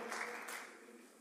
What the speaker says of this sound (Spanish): este aplauso es para ellos